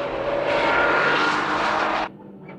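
A Honda NSX and a Mazda RX-7 race car at Tsukuba circuit, with a loud high-revving engine scream that holds steady and then cuts off sharply, leaving a fainter engine note.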